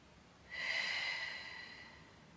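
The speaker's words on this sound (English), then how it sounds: "And breathing into the ribs." A single deep Pilates breath, drawn laterally into the ribs, comes through as one soft, airy inhale lasting under a second. It is followed by a gentle, fading exhale, close and quiet, with no talking over it.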